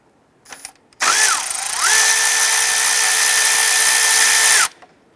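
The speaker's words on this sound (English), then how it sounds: "Let's start by removing this nut, get that loose. These are 12 millimeter and extension." Power tool with a 12 mm socket and extension spinning a nut loose during alternator replacement on a 2009-2015 Honda Pilot, a loud continuous whine of about four seconds that shifts in pitch, after a few faint clicks.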